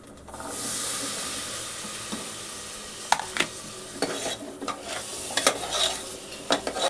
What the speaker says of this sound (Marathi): इथे मी मटर आणि बटाटे ॲड करते